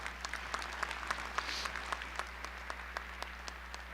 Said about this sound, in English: Let's have a round of applause for these individuals.